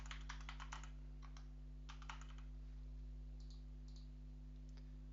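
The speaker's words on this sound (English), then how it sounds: "I'm typing in my name." Keys on a computer keyboard are typed in quick bursts of clicks with pauses between, close and fairly quiet over a steady electrical hum while a name is entered during a virtual machine setup.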